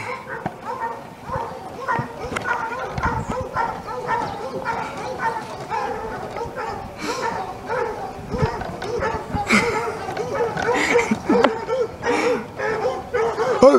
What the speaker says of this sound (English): Ah, there are noisy dogs back there.